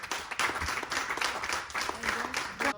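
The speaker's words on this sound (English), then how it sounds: "let's give Kayla a big round of applause for our champion" Applause for champion Kayla Benge, a modest patter of hands clapping at a club gathering, fairly quiet with a voice speaking over it.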